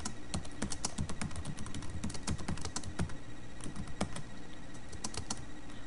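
Rapid, steady clicking of keys on a computer keyboard, close and fairly quiet, with a continuous uneven rhythm and no voices.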